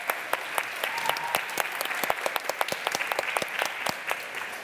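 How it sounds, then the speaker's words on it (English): An audience at a children's drawing event applauds the kids, a lively burst of many clapping hands, sharp and fairly close, running steadily for several seconds with little talk. "Let's clap those kids."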